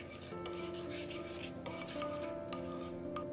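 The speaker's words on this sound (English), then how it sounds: "I'll give it a mix." Spoon stirring a tempering of fenugreek seeds, sambar powder and asafoetida in a pan, a steady close scraping and rubbing with faint sizzle and occasional metallic clinks, no talk.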